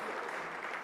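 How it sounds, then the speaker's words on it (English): A short, faint burst of audience applause at a university political science election debate, a steady wash of clapping with no talk. "Let's give him a round of applause, please."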